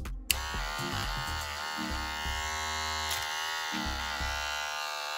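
A Kemei 2609 electric hair clipper switches on with a click and its motor runs as a steady, close, loud buzz throughout, with no talking.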